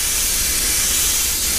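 White paint is sprayed over a stencil at about 10 pressure, a steady loud airbrush hiss that runs continuously and close without pause.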